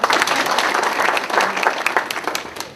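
Clapping crowd at a Toronto documentary release honoring a singer, a dense, lively burst of applause close by with individual claps standing out, swelling and fading slightly over a few seconds.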